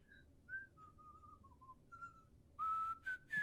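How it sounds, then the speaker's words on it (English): A person whistles a short tune of sustained, wavering notes at a moderate distance, getting louder and brighter toward the end against a quiet low background hum. "Nice whistling."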